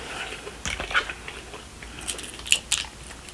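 Close, crisp bites and crunchy chewing of Chick-fil-A fries, several sharp crunches spaced irregularly over a quiet background.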